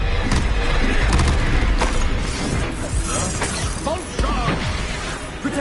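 A spell effect from a Harry Potter-style wizarding video game, a loud burst of crashing, thudding and shattering impacts layered with busy in-game noise, dense and continuous for several seconds.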